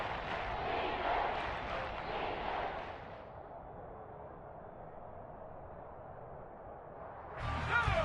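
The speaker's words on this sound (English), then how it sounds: "the crowd getting into it as we come up on a big 3rd down" Football stadium crowd at a Giants game, a broad roar of cheering that dies down midway, then surges loudly again at the end.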